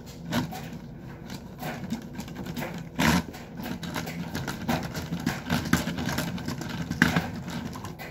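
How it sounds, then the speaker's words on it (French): A car's engine in a drifting video game, a buzzing, fluctuating motor note with rapid rasping pulses and a couple of sharper bursts, steady and moderately loud. "Quand tu drift, là, le bruit est tellement bon."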